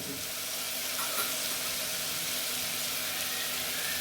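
Ginger garlic paste fries in a pan with browning mutton for a gravy, making a soft, even sizzle with occasional faint stirring, fairly quiet and without voices.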